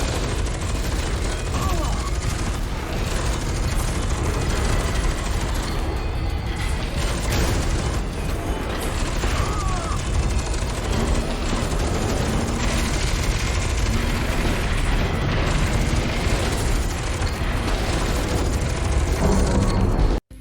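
Mech combat in FEAR 2, with rockets and machine guns firing in a dense, continuous barrage of blasts and rattling shots, loud throughout and with talk mixed in.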